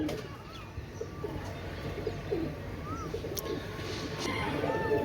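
A pair of Pakistani pigeons, a Teddy 128 hen and a single Oman Teddy cock, give soft low coos among scattered bird chirps in a steady indoor-outdoor background.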